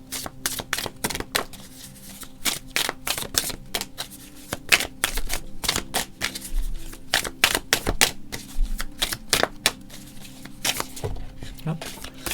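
A deck of tarot cards is shuffled by hand in quick, repeated riffling bursts and soft slaps, close and crisp, continuing for several seconds while a voice talks quietly underneath.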